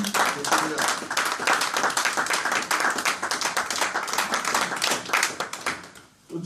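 A church congregation at an evangelical seminary claps together in dense rhythmic applause for Jesus, with voices cheering and calling out over the steady clapping until it fades at the very end.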